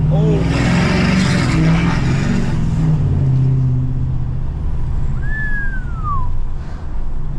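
Tuned Ford 6.7 Powerstroke diesel pickup running about 650 wheel horsepower, accelerating under light throttle with a steady, loud engine and road drone heard from the cab, while someone talks over it.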